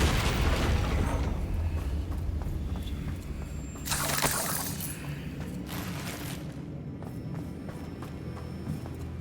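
Blasting spell explosions and magical combat in the Hogwarts Legacy video game, a busy rumbling mix with a sharp bright burst near the middle and continuous low battle noise throughout.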